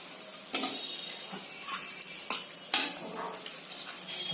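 Flattened rice with curry leaves stirred while frying for masala chira, a soft sizzle under repeated sharp scrapes and clinks of a spatula against the pan, close and irregular.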